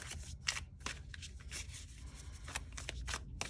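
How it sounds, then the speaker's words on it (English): Soft, scratchy rustling of velvety tarot cards being shuffled by hand, coming in short brushing bursts close to the mic with a steady low background hum underneath. "These cards are very velvety, and I don't use them that often, so they're a little hard to shuffle"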